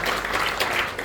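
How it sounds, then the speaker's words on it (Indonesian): A brief burst of lively applause from a church congregation during a Sunday service, dense and steady clapping filling the room for about a second. "Boleh tepuk tangan dulu yang meriah buat Tuhan."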